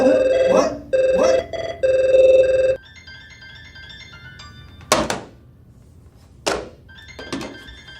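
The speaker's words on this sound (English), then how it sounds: "Hold on, I got another call coming in." An electronic telephone rings with an incoming call, three loud bursts of bright ringing in quick succession, followed by quieter tones and a few sharp thumps and clatters as the call is picked up.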